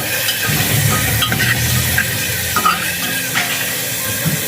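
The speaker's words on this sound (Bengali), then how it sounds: "তো এবারে এটাকে ভালো করে কষিয়ে নেব।" Meat coated in onion-ginger-garlic paste, ground spices and salt being stir-fried in a pan for a meat curry with papaya and potato, a steady close sizzle and hiss with occasional scraping stirs.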